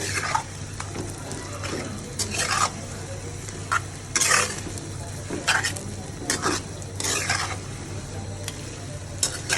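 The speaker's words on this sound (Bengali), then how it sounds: "এখন পেঁয়াজ দিয়ে আমি কালা ভুনাটা সুন্দর করে" Beef kala bhuna fries with onions in a pan, a steady sizzle broken by repeated scraping bursts as a spoon stirs the meat at an uneven rhythm.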